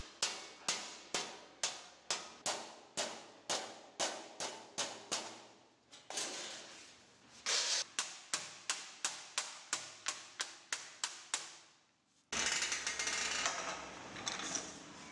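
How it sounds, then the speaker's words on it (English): A metal upper stove plate for a jatropha gasification stove is hammered into a flange: sharp, ringing metallic blows in quick rhythmic runs, close and clear, broken by short pauses and a burst of scraping near the end. "The upper plate is now hammered to entail a flange."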